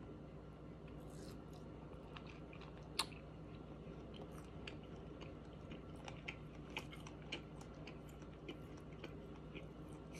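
Chewing on Shirakiku Sanukiya udon noodles in a mukbang: soft, close, wet chewing and slurping sounds repeat steadily over a quiet background, with one sharper click.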